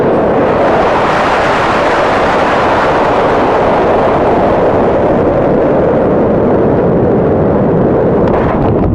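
An amateur rocket launch heard from a distance: a loud, continuous broadband roar that rumbles on unbroken and slowly fades toward the end.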